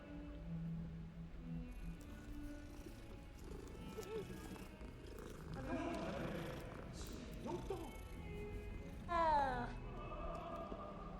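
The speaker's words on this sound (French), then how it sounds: "Mais tu vois le chat!" A cat in the video game Hogwarts Legacy purrs softly and steadily under quiet game ambience, while someone talks over it at times.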